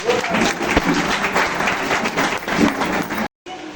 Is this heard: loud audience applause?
yes